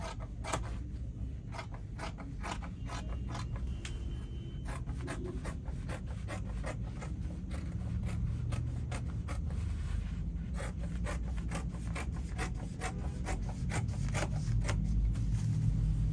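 Scissors cut a dress pattern out of fabric with a rapid run of crisp snips and rustling cloth. The snips sound close and fairly quiet, and no one speaks.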